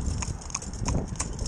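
An Arab horse pulling a carriage, its hooves striking in a quick, even clip-clop close by, with faint background noise and no talk.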